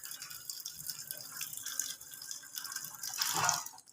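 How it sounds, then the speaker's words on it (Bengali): Continuous rain falling outside a home during heavy, flooding weather, a faint steady patter and dripping of water that swells slightly toward the end, heard alone at low volume. "বৃষ্টি তো অনবরতই দিয়ে যাচ্ছে।"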